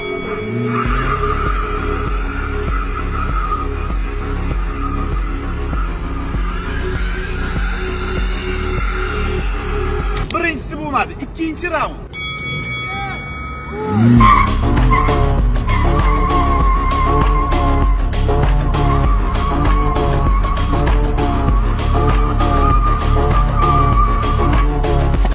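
Nexia and Gentra cars locked in a rope tug of war, their engines straining and tires skidding in a steady loud roar. The roar briefly breaks near the middle, then surges back louder, with a short spoken line.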